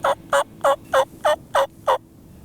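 Wild turkey jakes gobble near a roosting site during a treestand hunt, seven evenly spaced, loud, clear bursts in a steady rhythm over a quiet outdoor background.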